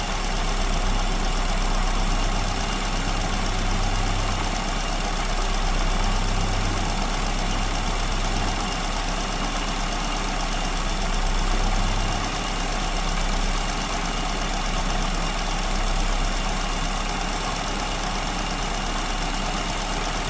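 A car engine idles near 1,000 rpm while its idle fuel mixture is being tuned from too lean, giving a steady, loud low hum with a faint periodic waver and no voices.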